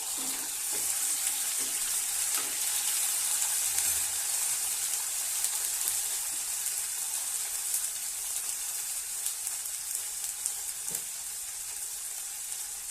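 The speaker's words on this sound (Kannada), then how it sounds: "ನೋಡಿ ಫ್ರೈ ಆಗ್ತಿದೆ" Ginger garlic paste frying in butter for a gobi curry, a loud continuous sizzle with crackling pops and a few soft utensil knocks, close up with no talking.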